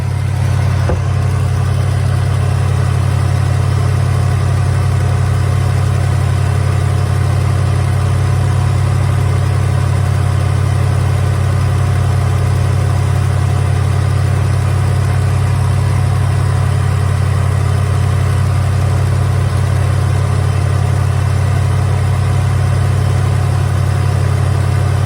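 A 1983 Hurst Olds 15th anniversary car, parked since 2002 and now running stock with its smog pump working, idles steadily and loudly close by in a constant low engine rumble with no talking.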